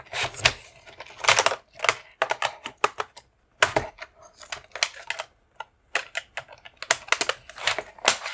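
Bursts of computer keyboard typing, rapid clattering key presses in irregular clusters with short pauses between, close and fairly clear, no voices.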